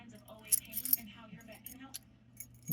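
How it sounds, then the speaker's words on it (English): Metal keys for a Ruko padlock jingle and clink in the hand in a few bright bursts, close and fairly faint, with someone talking over the handling. "There's the keys."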